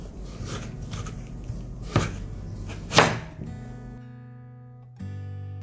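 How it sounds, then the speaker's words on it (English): A sharp knife slicing through tough raw papaya, producing a few distinct crisp chopping thuds against a board, the loudest around the middle, alone without talk and with a faint steady hum behind. "Since the papaya is raw and it's very tough to slice in, so it's better to use a sharp knife."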